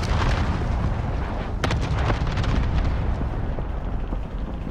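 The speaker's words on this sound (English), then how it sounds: "Cluster strike is active." Cluster strike explosions in the video game Call of Duty Warzone, a rolling series of heavy booms and crackling blasts, loud and continuous, with no talk.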